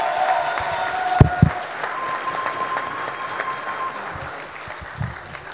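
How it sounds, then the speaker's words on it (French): Audience at a master's degree graduation ceremony gives steady, sustained applause, a dense wash of clapping with a few louder near claps, fading slightly toward the end. "Je veux un tonnerre d'applaudissements pour ma mère qui a pu me soutenir depuis le début."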